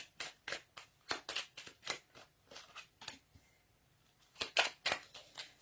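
Oracle cards from a small intuition oracle deck being drawn and handled, producing a close, fairly quiet run of crisp snapping flicks and slides in an uneven rhythm.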